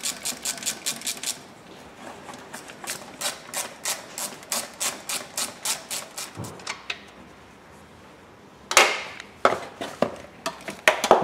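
A ratchet wrench loosening the air filter housing bolts on a Renault engine makes rapid rhythmic clicking strokes in bursts, close and crisp, with brief pauses between them.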